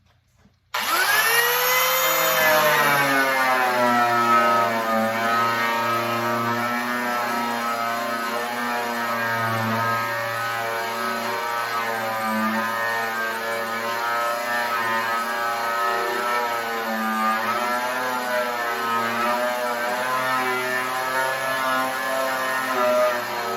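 An angle grinder fitted with a 4-inch rust and paint remover disc spins up with a rising whine, then runs loud and steady for over twenty seconds. The pitch dips slightly as it bites into the work, with no voices over it.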